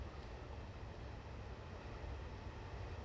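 Low steady rumble of an approaching train in Train Simulator 2018, a Cross Country HST diesel service, a continuous heavy drone at moderate level with no speech.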